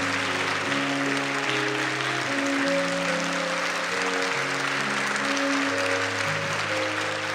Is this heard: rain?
no